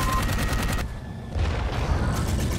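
Rapid gunfire from the Dark Void video game, a dense fusillade of shots that keeps up across the moment, briefly thinning in the middle before the volley resumes, loud and close with no speech over it.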